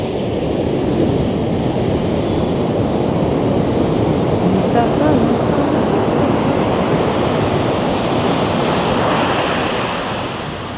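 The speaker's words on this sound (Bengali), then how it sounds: "আর সমুদ্রের গর্জনটা দেখুন শুধু" Sea waves roaring on Puri beach, a continuous loud wash of surf with wind buffeting the microphone, steady and close throughout.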